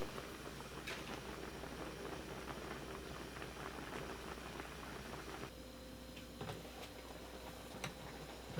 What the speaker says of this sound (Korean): 닭과 감자가 익을 때까지 보글보글 끓여주세요.